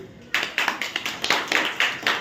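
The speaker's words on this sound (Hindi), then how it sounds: "ठीक है तालियां" Roughly a dozen sharp, evenly spaced hand claps from pupils in a primary school maths lesson, close and crisp in a quick rhythmic burst.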